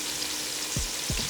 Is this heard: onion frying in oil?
yes